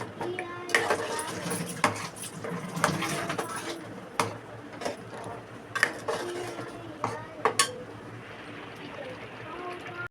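Tomato gravy for pav bhaji being sautéed in a pan, heard as repeated spoon scrapes and clinks against the pan over a soft background sizzle, with some quiet talk.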